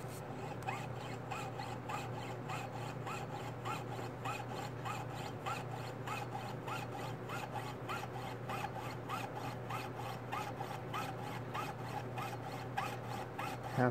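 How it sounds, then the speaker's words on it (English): A saw rasping steadily through a silver quarter clamped in a vise, cutting it into puzzle pieces; fast, even back-and-forth strokes repeat close up and continuously with no talking. "Halfway through with the last cut right now."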